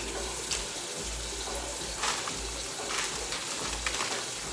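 Jamaican roots ingredients, almond strength among them, are rinsed under a steady stream of running water, a close continuous gush and splash broken by brief louder splashes as they are turned in the flow.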